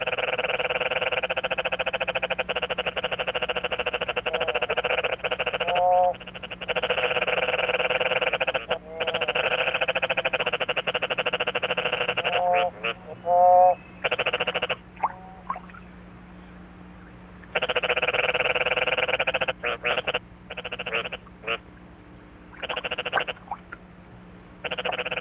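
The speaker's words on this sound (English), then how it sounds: "the frogs' vocal battles go on into the morning" Many frogs call together after heavy rain, a dense chorus of repeated croaks and bleating trills that overlap and break off in pulses, loud and close, alternating with brief quieter gaps.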